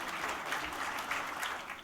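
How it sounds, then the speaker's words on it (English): Audience at a book series launch event applauds the translators, an even round of many hands clapping that holds steady and tapers slightly at the end. "Can we have a big round of applause for our translators?"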